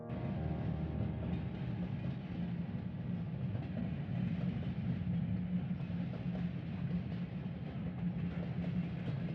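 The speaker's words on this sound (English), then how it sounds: "The last scene is that WP Alco number 551 that is returning with a short local train." A model WP Alco 551 locomotive hauls a short local train on a layout, giving a steady rolling rumble with faint clicking that holds at even loudness throughout, with no talk.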